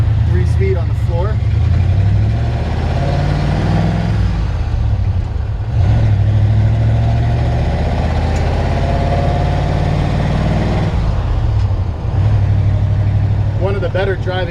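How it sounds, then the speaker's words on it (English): A 1948 Ford F1 pickup with its original flathead V8 runs steadily, a loud low rumble holding throughout with small dips in level, while someone talks over it. "This is a 1948 Ford F1, and we're going to take her for a spin."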